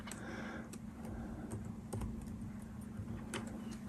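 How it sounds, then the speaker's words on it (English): Soft, rapid key presses on a computer keyboard while a password is typed, close, quiet and continuous, with a low hum behind them. "I guess I can't type blindly"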